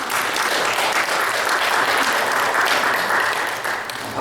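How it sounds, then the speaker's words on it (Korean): A church congregation at a Sunday service in a Korean church in El Centro claps together in steady, dense applause. It stays loud and unbroken throughout, then eases slightly at the very end. "우리 박수 한번 보내주시면 되겠습니다."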